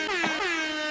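A single loud air horn sound effect blasts for nearly a second, a steady brassy tone with a slight pitch wobble, alone with no talking over it.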